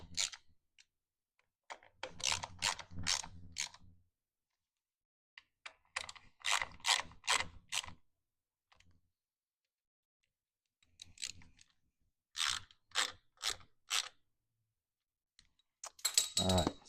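Ratchet snugging bolts on a car drivetrain during an E55 drivetrain swap into an E320 wagon: short bursts of rapid clicking separated by pauses, close and crisp in a quiet garage.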